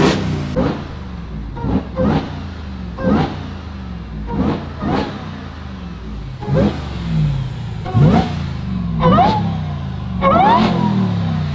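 Supercharged 6.2-liter V8 in a Ram TRX truck with muffler delete, revving hard in a rapid series of sharp bursts, roughly ten blips, loud and close, with a whining edge rising on the later revs and no talk.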